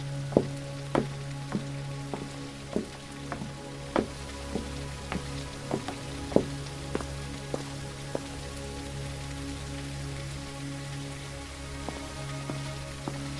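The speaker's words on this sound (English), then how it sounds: "Dang, where did all this rain come from?" Rain pattering steadily in the night scene of the detective game Detective Rainy Night, a continuous soft hiss with frequent sharp drips scattered throughout, no talking.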